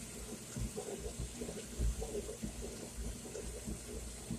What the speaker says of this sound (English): Now I'm going to run a little bit of water in the jar.